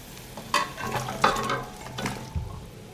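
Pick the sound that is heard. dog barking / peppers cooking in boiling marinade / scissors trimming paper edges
peppers cooking in boiling marinade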